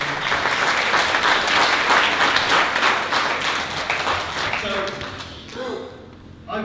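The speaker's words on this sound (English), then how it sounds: "Round of applause for Chris." An audience at a 2018 speech event claps for a speaker, dense close applause that holds strong and then thins out and fades, with voices emerging near the end.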